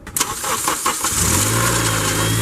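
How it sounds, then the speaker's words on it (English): A car engine cranks briefly after a power steering hose and pump replacement, then catches and settles into a steady, close idle hum. "the next thing we're going to do is start the engine"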